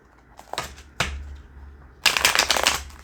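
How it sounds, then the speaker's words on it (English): A deck of cards is shuffled close by in three quick bursts of riffling and flapping, the last one longest and loudest, with no voices. "I'm gonna give these a shuffle."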